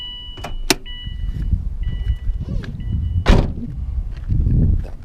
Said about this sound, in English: That buzzer is killing me.